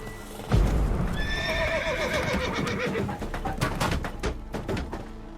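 Several horses in The Witcher 3 whinny and snort while hooves clop in a quickening rhythm, close and loud, with bird coos in the background and no talk.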